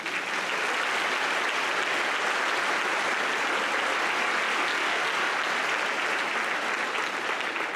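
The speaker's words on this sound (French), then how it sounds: "Veuillez l'applaudir chaleureusement" Sustained, dense applause from a large audience at a school gala at Collège Esther-Blondin, an even roar of clapping at full volume throughout with no pauses.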